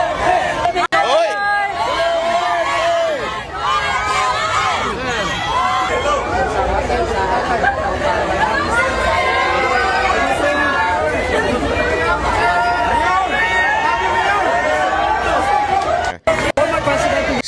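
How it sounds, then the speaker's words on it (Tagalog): Crowd shouting, cheering and chattering for former Philippine President Rodrigo Duterte on his return to his city, a dense, loud, continuous roar of many voices with whoops rising out of the babble. "Saan ka nakakita ng ganyan ng hiyawan ng mga tao pag bumalik ang isang politiko sa kanilang lungsod?"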